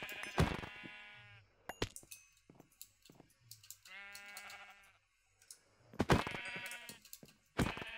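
Sheep in a Minecraft modpack bleating in several separate calls, harmonic and wavering, close and clear, with quiet game clicks between them.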